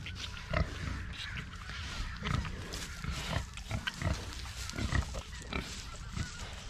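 Pigs at a low stock tank used as a water trough, giving repeated short grunts and snorts close by at a quiet level with some splashing and shuffling between them.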